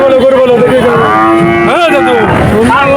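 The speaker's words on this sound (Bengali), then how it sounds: "অনেক গরু আছে এখানে।" Cattle and calves moo loudly and close by at a cattle market in Shahpur, long drawn-out lowing calls over a busy, noisy crowd background.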